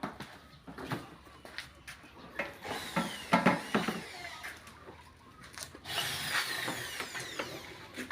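An electric hand drill whirs in short, uneven bursts, revving up and winding down close by, with a longer steady spin near the end.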